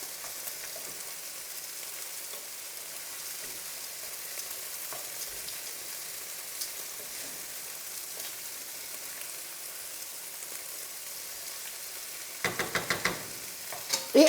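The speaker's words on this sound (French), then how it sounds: "on va mélanger jusqu'à ce que les coquillettes ont absorbé l'huile" Coquillette pasta being stirred in oil in a pan, a faint, even crackling sizzle that runs for a long stretch before a burst of louder scraping stirs near the end.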